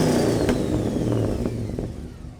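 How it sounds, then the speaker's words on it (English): A 1971 Chevrolet Cheyenne truck engine revs and settles with a deep, rumbling exhaust note through a stainless X-pipe exhaust with MagnaFlow mufflers, fairly close, easing off toward the end. "It has a very unique sound because of the way I build my exhaust."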